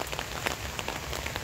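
Rain patters on the MacRitchie treetop walk trail in Singapore, a faint, dense scatter of small drops tapping surfaces in a continuous soft hiss.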